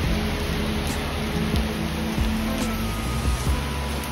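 Heavy monsoon rain pours steadily outdoors in a hilly valley town, a dense, continuous hiss of water with no breaks, close and loud throughout.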